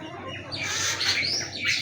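Bulbul birds snatching termites in flight let out a few faint, quick chirps and warbling calls against a soft outdoor background.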